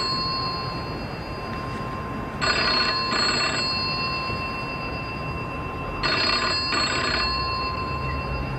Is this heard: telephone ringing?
yes